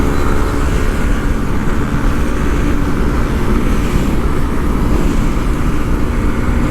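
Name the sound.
vehicle riding on the Dhaka–Chittagong highway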